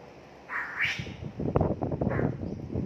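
A bird gives a short nasal squawk, then a run of harsher chattering calls, fairly faint against a quiet background.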